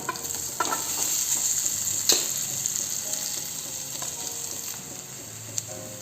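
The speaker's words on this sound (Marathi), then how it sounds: "आता हे छान परतून घेऊया" Misal masala with turmeric and mashed potatoes sizzles as it is sautéed, a close, steady frying hiss with occasional spoon scrapes and a sharp knock partway through.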